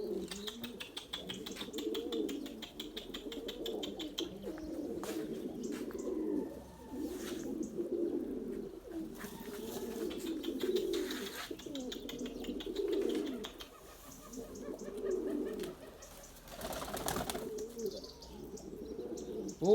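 A pet pigeon coos in repeated soft, throaty phrases, fairly close and steady, with faint chirps and a brief wing flutter in the background.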